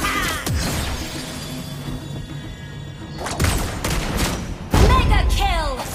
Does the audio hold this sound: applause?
no